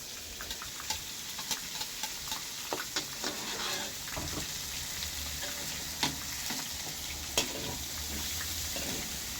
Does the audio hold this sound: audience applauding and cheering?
no